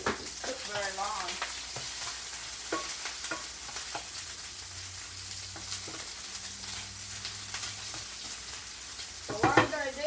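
Chicken fajitas sizzle and fry steadily in a skillet, a constant crackling hiss with occasional stirring clatter throughout, close and moderately loud, with a brief voice near the end.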